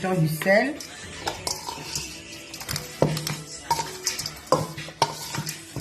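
Liboke ya ngulu being stirred with chives, bell pepper and salt, with irregular clinks and scrapes of a utensil against a pot, a faint sizzle underneath, and a voice talking at the start.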